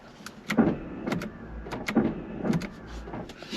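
Pop-up headlights on a car raising with a few short electric motor whirs and mechanical clunks, close by, separated by brief pauses.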